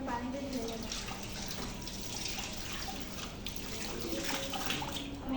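Hands are rinsed clean under running water, a constant hissing splash close by with some quiet speech mixed in.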